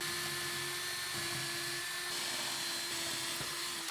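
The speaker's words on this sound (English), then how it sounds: "Now we can pre-drill in those spots." A steady high-pitched whine of a power drill pre-drilling mounting holes, running continuously, fairly close, with slight shifts in pitch as it bores.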